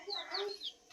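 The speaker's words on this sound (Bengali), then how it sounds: "মুরগির বাচ্চাগুলা সব খাবারগুলো নষ্ট করতেছে।" Young chicks peeping and clucking at a farm feeding spot while eating soaked bran feed, a few short high chirps close by with a soft voice briefly underneath.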